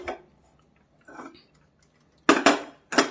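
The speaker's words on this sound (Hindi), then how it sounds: "गैस पे मैं कुकर रख रही हूँ।" A pressure cooker set down on a gas stove in a home kitchen, giving a few sharp metallic clanks and knocks, two soft taps early then a louder cluster of bangs near the end, close and unaccompanied by talk.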